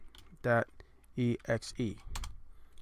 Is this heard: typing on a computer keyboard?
yes